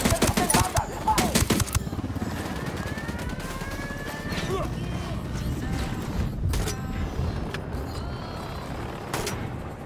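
Rapid bursts of automatic gunfire and scattered shots in a Ghost Recon: Wildlands shootout, loud and close at first, then continuing as dense overlapping fire with vehicle and helicopter rumble beneath, punctuated by sharp isolated cracks.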